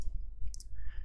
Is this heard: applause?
no